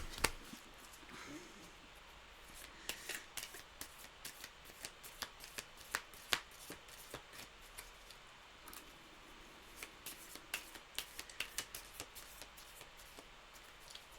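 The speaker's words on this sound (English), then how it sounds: "My guides are really making me shuffle the decks today, so particularly the oracles." Tarot and oracle card decks being shuffled by hand, a close, continuous run of crisp riffling snaps and flutters in an irregular rhythm, with no talking.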